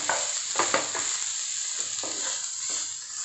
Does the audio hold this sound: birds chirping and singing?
no